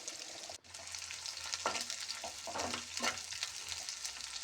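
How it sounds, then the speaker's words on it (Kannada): Chopped onions sizzle in a pan of hot oil for a tempering, a steady crackling fry broken by a few stirring scrapes, close and fairly quiet, with no voices. "ಈಗ ಕಟ್ ಮಾಡಿ ಇಟ್ಕೊಂಡಿರೋವಂಥ ಈರುಳ್ಳಿ ಹಾಕಿಬಿಟ್ಟು ಫ್ರೈ ಮಾಡ್ತಾ ಇದ್ದೀನಿ"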